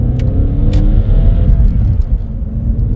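A BMW 318i E46 sedan drives through city streets, its engine a loud, steady low rumble heard from inside the cabin with faint road noise and a few light clicks.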